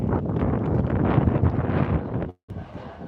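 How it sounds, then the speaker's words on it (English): Strong breeze buffeting a microphone outdoors on a walk, a steady roaring gust that drops out briefly near the end before resuming, loud and close, with no voice. "Yeah, it's getting really breezy out here"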